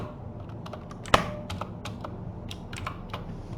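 Keystrokes from someone typing C code on a computer keyboard, a quick irregular run of close, crisp clicks with one sharper, louder key strike near the middle.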